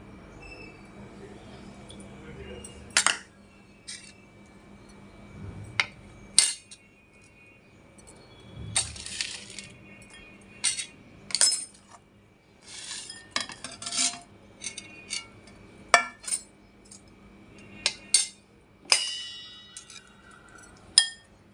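Pickle ingredients, including fenugreek powder, jaggery and crushed garlic, being mixed in a dish for Andhra maagaya mango pickle, giving irregular metallic clinks and scrapes of a spoon against the vessel with quiet stretches between them.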